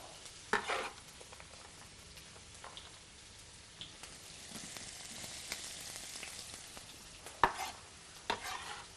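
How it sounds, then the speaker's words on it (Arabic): Onions going into hot vegetable oil in a pan, a soft, steady sizzle with occasional louder stirring scrapes and clatters, close and quiet, without speech. "راح ننزل بصل"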